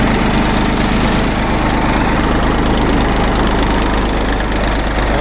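A tractor engine runs steadily at idle on a Pakistani village farm, a loud, continuous low diesel chug with a rapid, even thumping beat that holds unbroken from start to finish.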